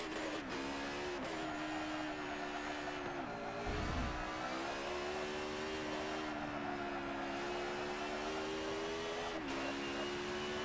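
A race car in Forza Motorsport 7 roars steadily through its gears, a loud dense engine whine rising and dipping with a brief low thump partway, continuous with no talking.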